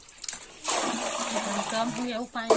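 Water poured out on a farm where chickpeas are sown, a steady splashing rush that starts partway through and continues, with voices talking over it toward the end.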